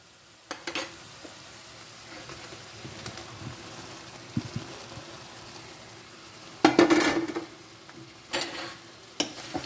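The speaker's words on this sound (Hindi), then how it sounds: "अब मैं इसमें पनीर डालूंगी।" Paneer goes into a pan of cooked masala with a few spoon-and-pan clanks, the loudest near the end, over a soft background sizzle. No speech.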